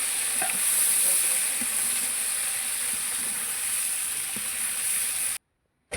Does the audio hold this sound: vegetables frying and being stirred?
yes